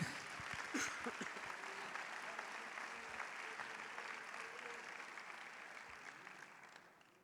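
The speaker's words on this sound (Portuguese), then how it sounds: "Vamos aplaudir ao Senhor, queridos" A church congregation applauds after a closing prayer, a steady wash of many hands clapping at moderate distance that holds for several seconds before tapering off near the end.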